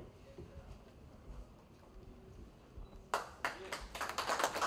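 Applause at a press meet for a folk and fusion music festival: a quiet, murmuring room, then a burst of clapping that starts abruptly and grows louder and denser toward the end.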